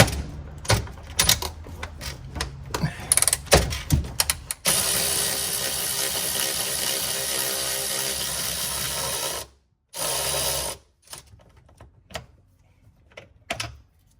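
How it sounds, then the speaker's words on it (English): A ratchet fitted with a 15 mm socket and an extension clicks in quick bursts while working on a Porsche Boxster 986 motor mount, then gives way to a long steady mechanical whir, brief silences and a few last clicks. "if I have a 15 millimeter socket with an extension on my ratchet"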